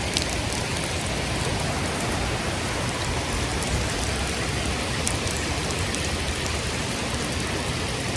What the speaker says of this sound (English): standing out in the rain